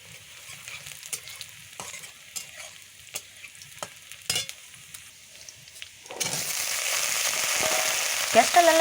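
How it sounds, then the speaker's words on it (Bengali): Chopped onions hit hot oil in a wok: after quiet clinks and scraping, a loud, steady sizzle takes over and continues to the end. "কড়াইটা গরম হয়ে গেলে আমি তেলটা দিয়ে দিয়েছি। এখন দিয়ে দেবো কিছু পেঁয়াজ কুচি"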